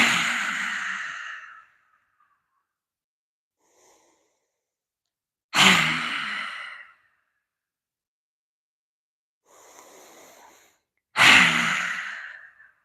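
Three long, open-mouthed exhalations in a chair yoga session, each a loud, breathy whoosh that fades out, separated by quiet pauses with softer inhales between them.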